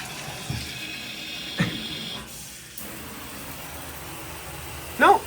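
An aging shower head in an older hotel bathroom runs water into the tub, a steady, fairly near broadband spray with a few brief clanks and knocks over it.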